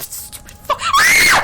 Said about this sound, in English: out of 10, how do you rate that scream?